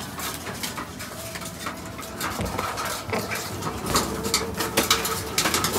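A pigeon gives soft repeated coos among a busy background of irregular clinks and knocks, close and moderately loud, with no talking.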